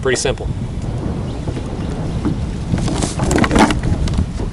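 Strong wind buffets around a small fishing boat drifting on open water, a steady, loud rush close to the microphone. Someone speaks briefly over it.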